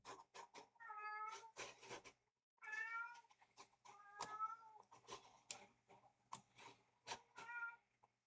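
A house cat meows repeatedly up close, a series of drawn-out, rising and falling cries separated by short pauses and soft clicks, fairly quiet with no talking.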